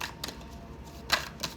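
Tarot cards being shuffled by hand give a few quick, crisp riffles and taps, close and moderately loud, with no talking.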